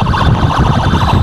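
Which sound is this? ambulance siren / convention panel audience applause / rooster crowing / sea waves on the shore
ambulance siren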